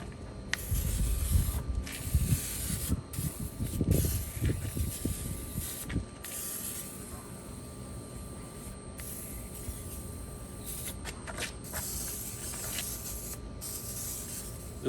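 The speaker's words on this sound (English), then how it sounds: "I'm gonna spray these with some WD-40 just to help with the release of the concrete." WD-40 aerosol sprayed onto forms for concrete pond lighting, a series of close hissing bursts of varying length separated by short pauses, with some handling clatter in the first seconds.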